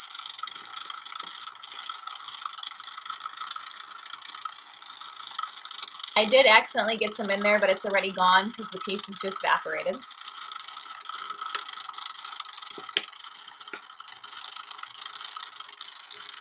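Dry ice jitters against the inside of a punch-style bowl, a steady rattling hiss that continues throughout while someone talks briefly over it in the middle.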